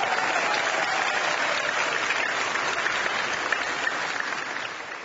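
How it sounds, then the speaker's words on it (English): A church congregation in Fort Worth claps for a Vacation Bible School organizer, producing a full, even wash of applause that tapers slightly at the end. "Let's give her a big round of applause."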